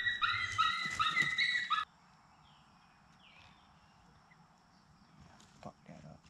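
High, whining puppy-like yelps and whimpers from a predator call playing coyote pup distress sounds for about two seconds, then near-quiet with a few faint scattered sounds.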